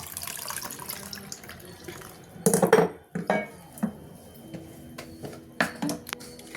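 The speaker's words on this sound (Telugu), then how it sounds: "ఈ రసము దీంట్లో పోసేసుకున్నాను" Tamarind rasam is poured into a pot in a home kitchen, with liquid splashing and metal vessel clinks in uneven bursts against a quiet background.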